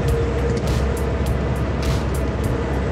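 A Land Rover Series engine runs steadily while driving, a continuous low rumble with road noise at close range and no break across the moment.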